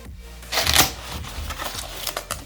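The inner cardboard box of a Dell KB216 wired multimedia USB keyboard is opened up close, giving a burst of crisp cardboard rustling followed by lighter scraping and crinkling.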